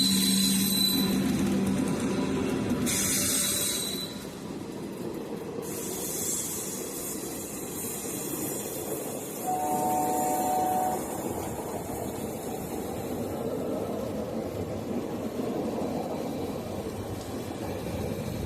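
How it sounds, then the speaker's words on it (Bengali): A Sealdah–Dankuni local train on the Kolkata chord line rolls along with a steady, loud rumble and hiss for the whole stretch, with a short tonal whine partway through. "এবার আমাদের ট্রেন এগোচ্ছে নিজের ডেস্টিনেশনে"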